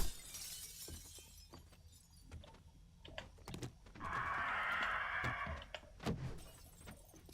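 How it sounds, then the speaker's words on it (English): Glass shattering in the video game 7 Days to Die, a few scattered sharp crashes followed by a sustained bright crackling burst of breaking glass, with quiet gaps between. "glass is just exploding all around me"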